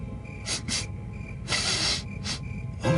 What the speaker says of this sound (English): All except for a kind of wickedy little sniffling sound.